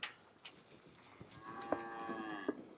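A young sheep on a farm gives a drawn-out, wavering bleat, close and moderately loud, ending in a couple of short catches, with no talk over it.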